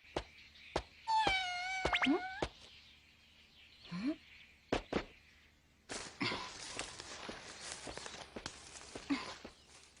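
A cartoon cat gives a few short meows between scattered footsteps and clicks, followed by a stretch of louder rustling and shuffling noise.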